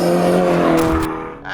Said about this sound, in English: Ferrari have nailed the soundtrack with this V8